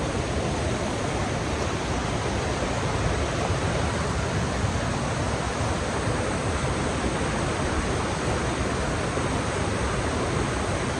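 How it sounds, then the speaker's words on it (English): A loud, constant roar of river water rushing close by near a waterfall, broadband and unbroken for the whole stretch, with no voices. "there's a waterfall there"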